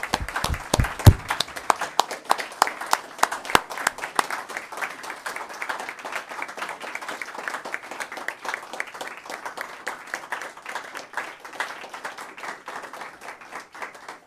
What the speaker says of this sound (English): I think these students deserve a round of applause.